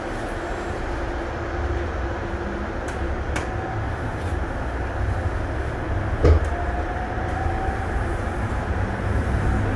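Underground cable-driven people mover at Sheremetyevo airport in Moscow pulling away, a steady loud rumble and hum with a faint rising whine and one brief clunk midway.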